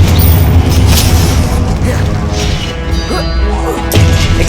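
A Confringo spell explosion in Hogwarts Legacy gives a loud, close booming crash with a sustained rumbling tail, and a second heavy impact follows near the end.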